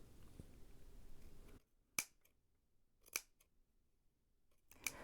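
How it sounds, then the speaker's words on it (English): Scissors snip through loops of yarn on a pom-pom flower, three sharp, crisp cuts spaced about a second apart in near silence after a brief stretch of faint rustling, close and clear. "Now cut through all the loops of the yarn."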